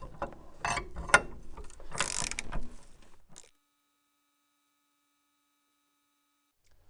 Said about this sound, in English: I use my ratchet and socket here to spin the nut in and start pulling that bearing out